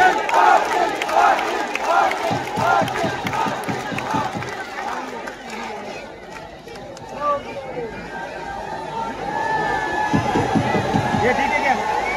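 A huge outdoor crowd at a Dussehra rally at Narayangad roars and chants, with rhythmic shouting and dense babble rising and falling over several seconds, and a voice speaks intermittently through the din.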